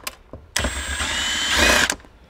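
A power tool whirs for about a second and a half while backing screws out of a car's center console under the armrest. A few faint clicks come just before and after it.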